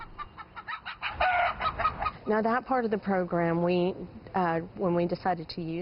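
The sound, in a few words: chickens clucking on a food bank farm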